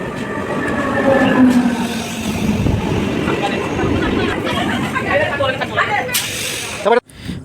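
A passenger train runs on the line between Amodpur and Katwa Junction, heard from inside a coach as a steady, loud rolling rumble with faint rail clatter that ends abruptly near the finish, with a voice speaking over it.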